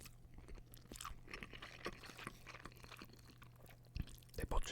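Close, quiet chewing of beef ramen noodles, soft wet mouth sounds and small crunches in an irregular rhythm, with a few louder bites near the end and no speech.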